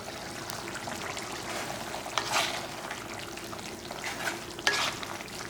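Mutton masala fry for a thick Tamil-style varuval being stirred in a pan over high flame, with a steady low sizzle and a couple of brief scraping stirs standing out.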